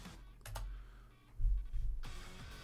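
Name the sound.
typing on a computer keyboard in command line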